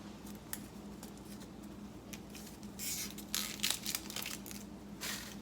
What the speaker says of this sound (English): Cut it in half, and now we're going to peel it.